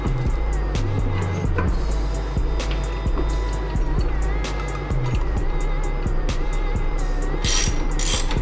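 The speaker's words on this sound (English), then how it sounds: "I've got the drive shaft bolted in" A ratchet tightens the drive shaft bolts on a 1985 Toyota 4Runner, sending out rapid, close clicking bursts in short runs over a steady low background hum.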